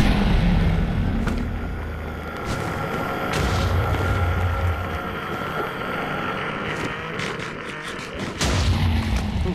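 Minecraft's ender dragon fight on Xbox One fills the mix with dense, continuous game noise: rumbling booms, roars and sharp hits layered over one another without a pause.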